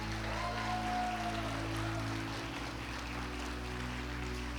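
Faint, steady applause from a church congregation continues throughout, soft and distant with a low hum underneath.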